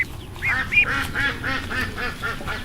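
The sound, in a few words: young Indian runner duck quacking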